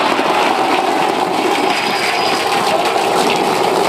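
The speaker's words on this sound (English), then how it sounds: "Booster landing burn. Seeing 13 engines." SpaceX Starship Super Heavy booster firing 13 engines in its landing burn, a loud steady roaring rumble with broad crackling hiss that holds constant throughout.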